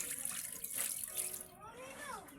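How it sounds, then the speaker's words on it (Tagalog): Water from a tap runs steadily while something is washed at a sink, a continuous close splashing hiss that continues under a brief voice. "Hugasan ulit natin."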